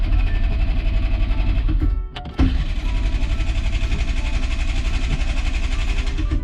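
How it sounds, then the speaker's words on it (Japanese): A Mitsuoka BUBU504 engine cranks repeatedly with a loud, steady churning whir, briefly pausing before cranking again without catching. "よし、エンジンかかるかな。"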